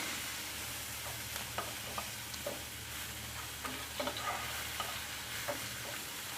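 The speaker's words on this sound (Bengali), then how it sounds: "দেখতে পাচ্ছেন পেঁয়াজ কুচিগুলি আমরা ভাজা ভাজা করে নিচ্ছি।" Chopped onions fry in a pan for a rui fish curry with vegetable stems, a steady close sizzle broken by frequent clicks and scrapes as they are stirred.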